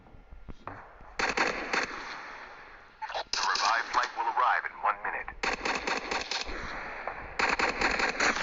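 Bursts of rapid automatic gunfire from a video game shooter, loud and repeated in several long volleys separated by short pauses, with people talking over it.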